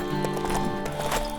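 Horse hooves clip-clopping with a whinny from the LEGO Marvel Super Heroes 2 video game, steady and close over a continuous game music bed.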